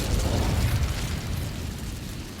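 An Incendio fire spell cast in Hogwarts Legacy bursts out as a loud, dense whoosh of flame with a heavy low rumble that slowly fades over a couple of seconds.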